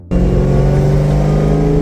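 A Ford SVT Cobra with a cheap replacement motor starts up abruptly into a loud, close, steady engine drone with a strong tonal hum while being driven.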